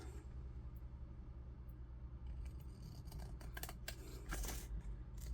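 Scissors cut through a cardboard box to make tags, producing a faint run of crisp snips and crunchy scrapes that get louder toward the end, heard close with no talk.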